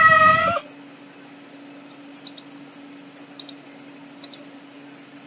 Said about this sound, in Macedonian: Маче.